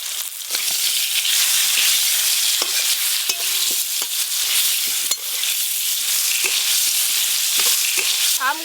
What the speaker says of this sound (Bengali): আমগুলো একদম হালকা করে নেড়ে নিয়েছি